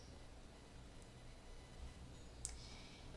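A faint, quick mouse click or two in a quiet room, soft and close, with a sharper tap near the end.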